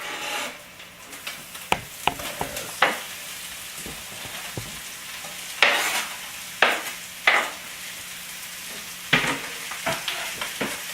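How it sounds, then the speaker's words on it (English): Onion tossed in with browned beef in a pan, crackling sizzle under repeated scraping stirs and sharp utensil clacks against the pan, close with no voices. "we're just going to throw it in with the beef"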